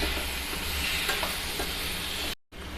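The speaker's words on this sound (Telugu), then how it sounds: "ఇందులో వడగట్టుకున్న సొరకాయ ముక్కలను వేసుకోవాలి. ఒకసారి కలుపుకోవాలి." Strained bottle gourd pieces stirred in a hot pan with green chilies and curry leaves, a steady sizzle with soft scraping under it, ending in a brief cut of silence.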